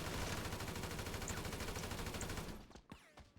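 Rapid automatic gunfire from GTA V Online, a dense sustained burst of shots that cuts off abruptly, followed by a few scattered louder single shots.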